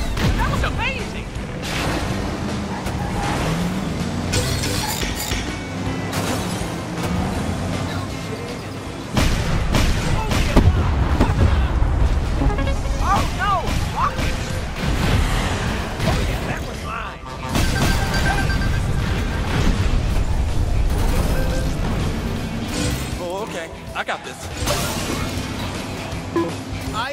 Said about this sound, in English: there goes some tracking rockets